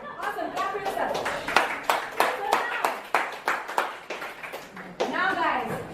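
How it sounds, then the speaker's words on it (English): Participants at a dance workshop clap for themselves, a lively burst of near, uneven handclaps mixed with children's and adults' voices talking and calling out over it. "Clap for yourself."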